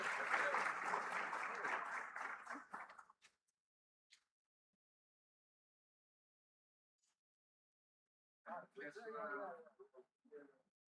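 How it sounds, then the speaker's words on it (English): An audience at an Africa investment summit applauds the panelists with loud, dense clapping for about three seconds, which tapers to a few scattered claps. Then comes a long quiet pause before a person starts speaking. "Please, a round of applause for the panelists one more time."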